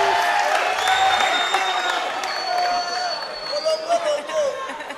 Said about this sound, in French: On applaudit pour le showman.